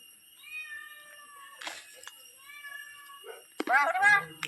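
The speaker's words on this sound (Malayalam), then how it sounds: "പൂച്ച" A cat gives several clear, drawn-out meows near a house in Kerala, spaced a second or so apart and growing louder toward the end, with brief voices in between.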